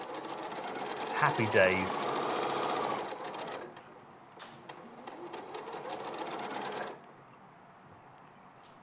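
A sewing machine pieces Kaffe fabric in short, rapid stitching bursts with pauses between them, close by and under people chatting.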